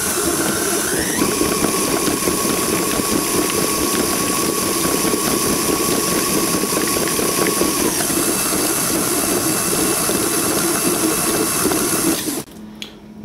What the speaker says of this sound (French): tous les ingrédients sont dans notre robot, il ne nous reste plus qu'à mélanger